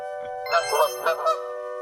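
A goose-like honking sound effect in a role-playing game podcast gives about four loud, nasal honks in quick succession, close and clear with no talking over it.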